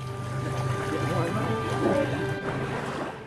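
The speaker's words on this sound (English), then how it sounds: "Our turn for the coastal Zodiac ride now." Zodiac inflatable boat on a coastal ride in the Galapagos, a steady outboard motor drone with wind and water rush, people talking over it.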